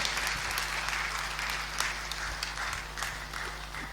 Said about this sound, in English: Ladies and gentlemen, could you have a round of applause, please, as she signs out?